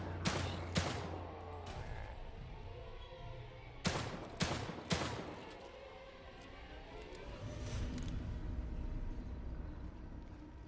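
Gunshots in The Evil Within 2: two quick sharp shots early, then a cluster of three loud cracks near the middle, over a low rumbling game ambience with no talk.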